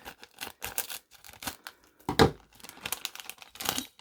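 Crinkly rustling and tearing of diecast car packaging in short bursts, with one louder rip in the middle, close up and without talk.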